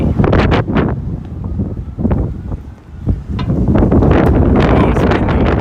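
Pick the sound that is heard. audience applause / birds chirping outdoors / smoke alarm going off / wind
wind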